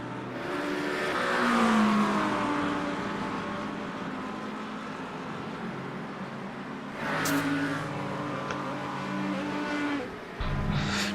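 Race cars in an iRacing multiclass race at Imola: a continuous engine drone with rising and falling pitch as cars accelerate and shift, steady and fairly close, with a brief surge near the end.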